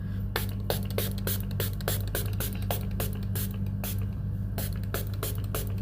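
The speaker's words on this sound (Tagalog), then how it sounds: "Spray ko lang siya ganito." Watsons perfume sprayed indoors: a rapid run of short, sharp hissing spritzes repeated in a steady rhythm over a constant electrical hum.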